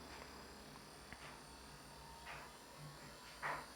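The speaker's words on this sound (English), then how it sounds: "I cleaned the commutator and now the motor is running." Small electric motor of a vintage Tomy toy engine running after its commutator was cleaned, a very faint thin buzz with a few soft clicks and one slightly louder rattle near the end.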